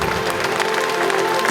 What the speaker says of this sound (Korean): 다시 한번 여러분 수고의 박수를 크게 한번 보내주십시오